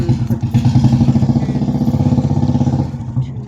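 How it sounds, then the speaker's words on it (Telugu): A motorbike engine idles close by with a loud, rapid, even throbbing pulse that runs steadily for about three seconds before easing off. "శబ్దం వచ్చింది, బండి శబ్దం."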